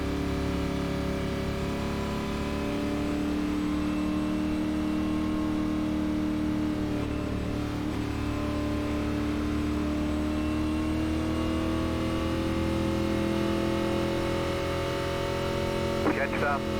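Sustained drone of NASCAR Xfinity stock-car engines in iRacing at Atlanta Motor Speedway, a steady loud hum with slowly shifting pitch as the pack circles, continuous throughout with no talk.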